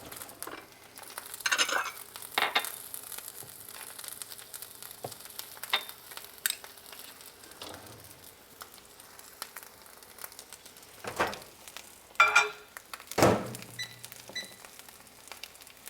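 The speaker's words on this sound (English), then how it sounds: "I'm just making a couple eggs." Eggs frying in a home kitchen pan give off a soft, low sizzle beneath scattered clinks, scrapes and rustles, with a few sharper utensil knocks near the end.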